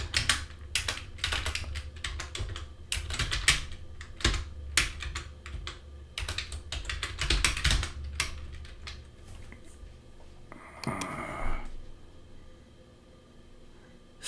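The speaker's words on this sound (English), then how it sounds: "Let me type that up." Typing on a computer keyboard, close and fairly quiet clusters of rapid key clicks in uneven bursts with brief pauses, thinning out near the end, with no talking.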